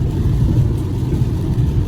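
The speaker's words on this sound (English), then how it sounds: "And there seems to be traffic," Steady road traffic on a cloudy, rainy day, a car's engine rumbling low and continuous alongside the hiss of wet road, with no voices.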